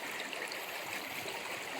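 A waterfall stream at Ambon Falls in Laurel, Batangas gives a steady, close, broadband rush of falling and flowing water that stays even throughout, with no voices.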